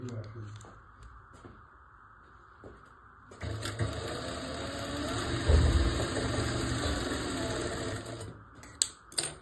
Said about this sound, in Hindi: ऐसे फोल्ड करके सिलाई लगा देनी है